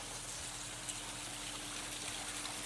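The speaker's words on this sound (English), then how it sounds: "There's your water feature." Running water from a backyard water feature with a small retaining pond at a luxury home in St. George, Utah: a steady, even broadband wash of flowing water at low level, heard alone with no voices.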